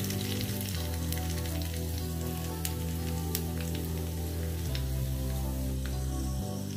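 Curry leaves and coriander fry in a pan with a steady, close sizzle and crackle that runs without a break, joined by a low continuous hum.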